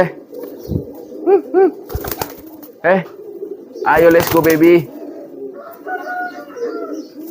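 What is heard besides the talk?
pigeons cooing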